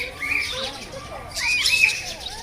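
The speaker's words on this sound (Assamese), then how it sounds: "ইমান ধুনীয়া চৰাই মাত আৰু বিভিন্ন ৰকমৰ চৰাই চাক মাত" Birds calling at Assam State Zoo: several short chirps and whistled tweets, moderately close, a brighter burst of calls midway over a soft background murmur with some faint talk.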